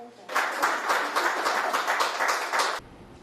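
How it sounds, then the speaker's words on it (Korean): Hospital medical staff in the UK clap after a 90-year-old woman receives the first Pfizer COVID-19 vaccine shot. A small group claps in a brisk, regular rhythm of about a dozen clear beats, close by, then stops suddenly. "의료진들이 박수를 칩니다"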